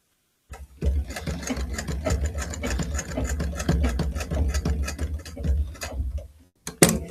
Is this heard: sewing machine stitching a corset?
yes